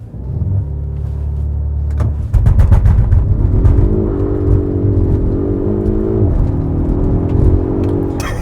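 A 2021 Polestar 1 accelerates hard without launch control, its steady drivetrain rumble rising in pitch and building through the pull, loud and close, with no one talking.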